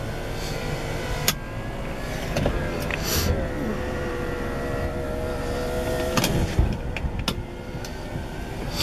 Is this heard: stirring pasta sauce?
no